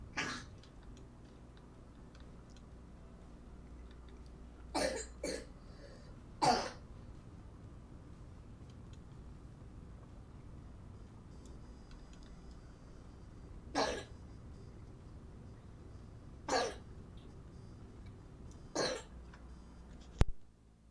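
A child coughs in several short, sharp bursts spread across a quiet room, with near, distinct coughs separated by long pauses over a faint background hum.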